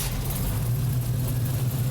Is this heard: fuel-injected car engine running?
yes